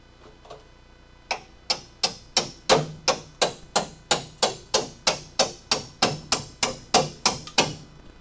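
A hammer striking a chisel during a car restoration, about twenty sharp metallic blows in a steady, even rhythm after a couple of light taps, close and loud.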